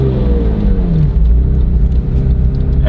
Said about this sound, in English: And start giving it some gas too.